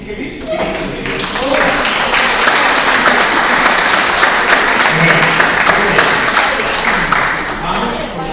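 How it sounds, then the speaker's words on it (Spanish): Applause from a church-service audience, broad steady clapping that swells quickly and holds for several seconds before tapering slightly, filling the room at a lively, even level. "démonos un aplauso porque es que el Espíritu de Dios."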